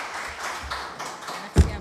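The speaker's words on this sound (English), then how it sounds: "Je voudrais qu'on applaudisse encore une fois nos 3 orateurs pour les remercier" An audience at the 2022 European IOI conference applauds its three speakers, a steady wash of clapping at moderate volume that ends in one louder thump near the finish.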